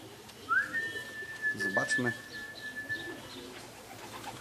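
A racing pigeon arriving at its home loft during a race-return session in Odolanów, Poland, gives a few soft coos around the middle of the clip, under a steady thin whistling tone, with a brief spoken word and background noise.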